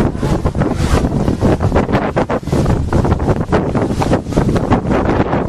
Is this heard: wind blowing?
yes